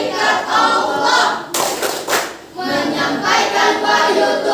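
Students clap a rhythmic chant game together in class, a dense, loud patter of many hands in bursts with a brief pause midway, close and energetic.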